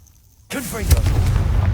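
Confringo fire spell blast in the Hogwarts Legacy video game: a loud, sudden explosive burst with a booming, rumbling tail that follows a short quiet moment.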